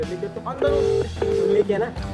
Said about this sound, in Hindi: मैं अभी क्रेन वाले को फोन कर रहा हूँ